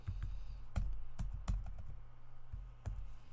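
Keys clatter on a computer keyboard while a programming comment is typed, with quick irregular taps and a few louder keystrokes, close and clear over a low steady hum.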